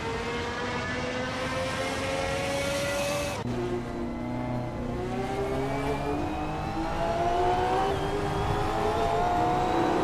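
Racing car engines, including a Lotus Elise and a Mercedes 190E Evo 2, wail together in a video game race on tight corners at Interlomas, a loud continuous drone with pitch dropping and rising as gears shift.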